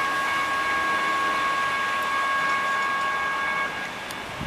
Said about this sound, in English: the metro train is pulling into Kensington station